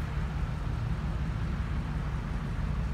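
A big Chevy dually pickup truck idles nearby with a steady, deep low rumble that holds constant and loud throughout, with no talk over it.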